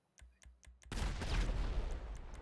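Explosions and gunfire in GTA V erupt after a few sharp separate shots, swelling into a loud sustained burst of blasts and rapid fire filling the rest of the moment.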